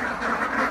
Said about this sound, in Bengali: এখানে হাঁসের অভাব নাই, এত হাঁস আছে